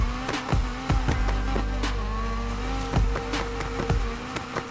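Honda Civic drift build in Need for Speed Heat, its engine revving hard in rising and falling pulses with tire squeal layered over the strained, buzzing motor.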